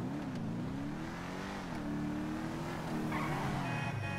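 Engine of the Ubermacht Revolter in Grand Theft Auto 5, loud and close, holding a strong droning tone that rises and drops with a few quick shifts in revs.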